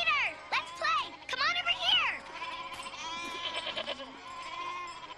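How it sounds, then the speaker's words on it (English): A herd of goats brought down from the pasture bleat loudly and repeatedly, several overlapping wavering calls close by, followed by softer continued bleating. "How did you know Peter would be coming with the goats?"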